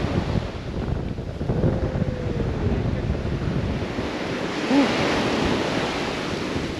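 Surf breaks along a Key West beach while wind buffets the microphone in a steady wash, with a faint swell of waves midway and no talking.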